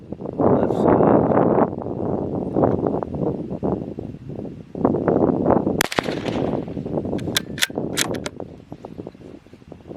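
Rifle gunshots from a Ruger American bolt-action or a CZ 512 semi-automatic, several sharp shots spaced a second or so apart, fairly distant and crisp over steady outdoor wind rumble.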